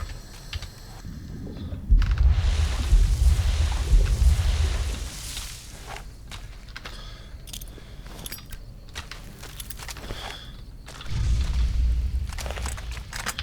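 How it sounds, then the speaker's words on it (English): A Molotov fire bomb bursts in Fallout New Vegas, a loud low whooshing boom that swells and rumbles for a few seconds, then a second fiery burst follows near the end among clicks and clatter. "It's a Molotov."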